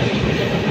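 A passenger train running on rails through Jharkhand gives a loud, steady, close rumble of wheels with no pause and no voices.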